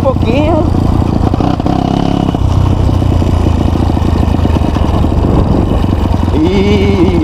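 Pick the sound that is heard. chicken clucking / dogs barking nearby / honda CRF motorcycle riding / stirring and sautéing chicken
honda CRF motorcycle riding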